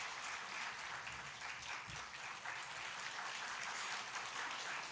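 A church congregation applauding during a Sunday worship service at Daegu Sangdong Church, a broad, even wash of many hands clapping at once, steady and distant-sounding throughout with no clear voices.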